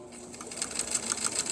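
A sewing machine runs alone, stitching lace in a quick, even mechanical chatter that holds close and fairly quiet through the short stretch.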